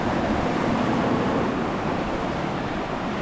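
Ocean waves washing onto a beach on Tenerife make a steady, loud, continuous roar of surf close by, with no voices over it.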